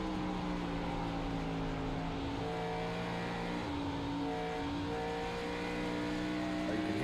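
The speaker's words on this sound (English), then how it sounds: "Hear him playing with the throttle," A race car in a racing video game at Rockingham runs on board over a bumpy oval, its engine droning steadily with throttle lifts and shifting pitch, faint and continuous under background noise.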